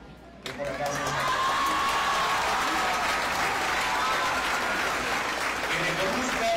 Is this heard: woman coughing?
no